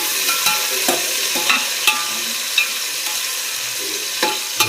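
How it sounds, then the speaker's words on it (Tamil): A large batch of about 2 kg of onions sautéing for biryani, steady loud sizzle with a regular series of spoon scrapes and clanks as they are stirred, close up. "இப்போ நான் வெங்காயத்தை போட்டுட்டு 2 கிலோ கிண்டி விட்டுட்டு"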